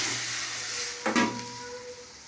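Spices tempered in hot oil with dried red chillies for dal, giving a brief burst of crackle and sizzle at mid-clip over a steady low kitchen hiss, with no talking.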